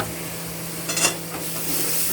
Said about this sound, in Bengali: চিকেনটাকে আমরা জল দিয়ে কষে নেব।